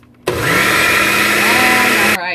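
A blender pulses keto lemon muffin batter in one loud, steady whirring burst of about two seconds that stops abruptly.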